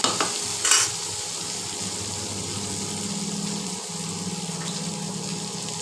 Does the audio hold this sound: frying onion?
yes